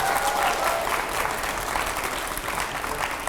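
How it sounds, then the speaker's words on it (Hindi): Audience applause fills a studio during a televised Hindi talk show, steady dense clapping at close range that holds evenly throughout with no voices over it. "मैं चाहूंगा पहले तो जोरदार तालियां होनी चाहिए।"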